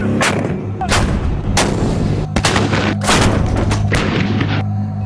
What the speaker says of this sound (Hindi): ये artillery weapon systems indirect firing द्वारा लंबी दूरी तक जमीनी हमला कर सकते हैं।